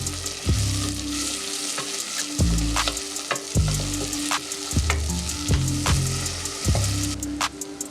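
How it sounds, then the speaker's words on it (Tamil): Chopped onions and curry leaves fry in groundnut oil in a clay pot, a steady close sizzle broken by repeated scraping and stirring strokes at a loose, regular rhythm. "பொடியா நறுக்குன 2 பெரிய வெங்காயம் சேர்த்து நல்லா வதக்கிக்கிறேன்."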